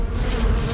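A cartoon bee buzzes in an animated show, a close, continuous droning hum lasting under a second with no speech over it.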